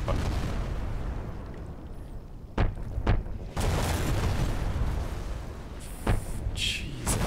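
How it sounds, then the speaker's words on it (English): Artillery strike explosions in Modern Warfare Remastered: several sharp, heavy booms in quick succession over a constant rumbling battlefield background, with a later burst of blasts. "Warhammer, fire mission, danger close. Enemy armor and infantry, 100 meters to the southwest of our location."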